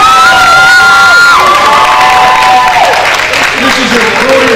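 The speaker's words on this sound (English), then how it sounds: "Give a round of applause." Crowd at a school banquet cheering and applauding loudly, with children shouting and whoops over a dense, steady roar of claps throughout.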